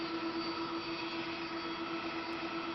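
Steady airliner jet engine drone from the FlightGear flight simulator during a landing approach, a constant broadband roar with a sustained tonal whine, even and loud throughout with no talking.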